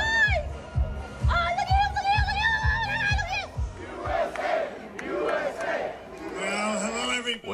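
A large crowd at a Trump rally in the Bronx chants in a loud, rhythmic pattern, then breaks into cheering, shouting and excited babble close around.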